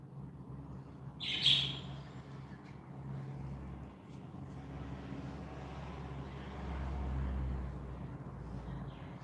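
Wild birds at a backyard feeder with fresh water and seed: a sharp chirp stands out early, then faint bird calls continue over a steady low rumble of passing traffic.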